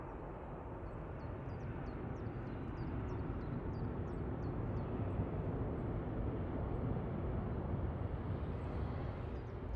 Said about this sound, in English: 614 from Brussels Charleroi just landed in parallel EIDYL 737-800